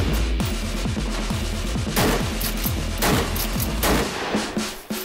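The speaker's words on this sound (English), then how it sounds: "we're just gonna test out the UBS12 here" A UBS12 underbarrel shotgun fires outdoors in a rapid string of loud, booming shots, several blasts landing close together over a continuous roar of echo and reverberation.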